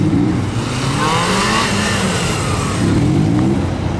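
A Suzuki GSF400 motorcycle at the MGUC2025 event revs loudly and close, its engine note climbing, easing off, then surging again near the end, with no talking.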